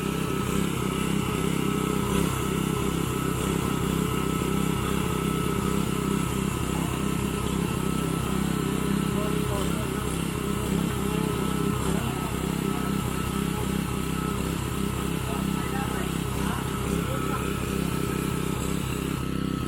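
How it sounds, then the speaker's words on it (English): A petrol-powered concrete vibrator drones continuously at a construction site in the Philippines, a loud, steady small-engine buzz with faint rattling that holds without a break. "So we'll be using the vibrator all the way throughout now."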